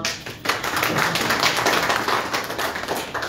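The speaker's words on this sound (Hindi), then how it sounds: "आप ताली बजाएंगे हम सब" An audience claps at a community ceremony honouring guests with mementos, dense and steady applause filling the room for a few seconds without talk.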